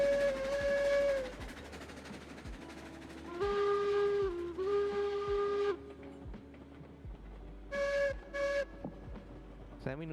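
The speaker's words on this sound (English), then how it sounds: "Are you still blowing the whistle?" Steam locomotive whistle in a railroad game set on the Lake Chama & Pacific line, several long sustained blasts with pauses between them, loud over a steady chuffing rumble.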